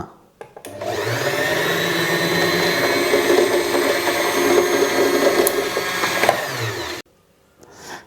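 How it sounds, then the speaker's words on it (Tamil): A Usha Janome Allure DLX sewing machine runs steadily at speed while winding thread onto its bobbin, a loud continuous whirring motor hum lasting several seconds before stopping abruptly. "இப்போ வந்து நம்ம பெடல் பண்ணி பார்ப்போம் இந்த பாபினில் வந்து நூல் லோடு ஆகுதா அப்படிங்கிறத"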